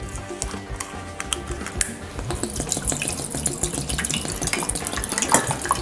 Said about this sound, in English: We're gonna add the water,